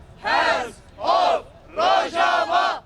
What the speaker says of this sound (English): A crowd of about 60 gathered in front of the Christmas tree by Nashville's downtown courthouse